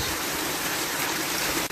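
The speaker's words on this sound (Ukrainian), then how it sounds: "Це вже лиє, боже боже. Тому страшний дощ." Heavy rain pours down on a vegetable garden in a Ukrainian village, a dense, loud, unbroken hiss of water close by, steady throughout.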